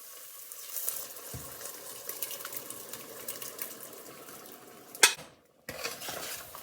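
A spoon stirs boiled chana dal with cooked tomato in a pot, making soft wet scraping and clinking close up, with one sharper metallic knock near the end before a brief silence.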